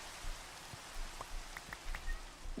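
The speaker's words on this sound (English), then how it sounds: "Raining right now." Steady, soft rain hisses in the background with scattered drops tapping nearby, fairly quiet overall and without any voices.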